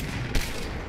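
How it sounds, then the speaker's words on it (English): Gunfire in the Fortnite battle royale game: one sharp shot cracks out partway through, over a dense, constant wash of game noise. "I hear a lot of shots coming from construction"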